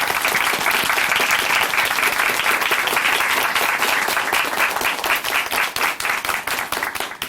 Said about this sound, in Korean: 다시 한번 홍채빈 자매님께 큰 박수 보내드릴게요.